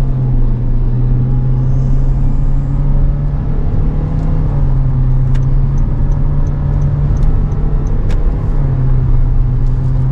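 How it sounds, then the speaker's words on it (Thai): Toyota Yaris Ativ car accelerating hard from a standstill toward 100 km/h, heard from inside as a steady, loud engine drone and road rumble with a rising hum, no talking. "เดี๋ยวเราจะลองเหยียบนะครับจาก0ถึง100นะครับว่ารถคันนี้จะทำความเร็วได้เร็วหรือเปล่าครับ"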